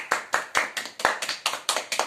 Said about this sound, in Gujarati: હવે પિંકેશ અને આદિત માટે જોરદાર તાળીયા